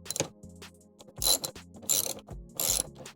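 A ratchet with a 10mm socket loosens bolts on the A-pillar trim of a 2021 Ford Transit, giving three or four short, close bursts of rapid clicking with brief pauses between them.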